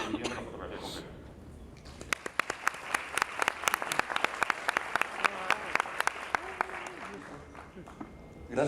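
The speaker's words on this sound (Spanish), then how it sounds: "les pido por favor recibamos con un fuerte aplauso a Ricardo Izquierdo" A conference audience breaks into applause to welcome a speaker, a burst of many hands clapping that swells, holds for several seconds and fades, following a brief stretch of talk.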